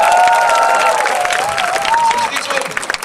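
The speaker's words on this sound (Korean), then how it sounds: "박수 한 번만 다시 부탁드립니다" Soldiers in the audience of a 2006 army morale-boosting concert applaud at a military base, a dense, steady wash of clapping with a sustained tone running through it, thinning out toward the end.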